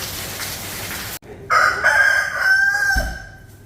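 A rooster crows loud and close inside a restaurant in Asia, one long drawn-out call that follows a steady wash of rain noise and a sudden hush.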